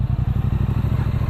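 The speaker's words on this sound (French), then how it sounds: "Le bruit de cette moto est juste génial." A Triumph Street Twin 900 motorcycle from 2017, fitted with an aftermarket exhaust, thumps out a rapid, regular low-pitched engine pulse at close range, loud and even throughout a short burst.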